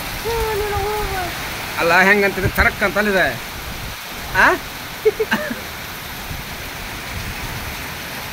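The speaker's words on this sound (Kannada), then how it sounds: "ಭಾರಿ ಮಳೆ ಐತೆ" Heavy rain driven by strong wind pours down in Haveri district, Karnataka, a constant hissing wash of noise running beneath a man's intermittent speech.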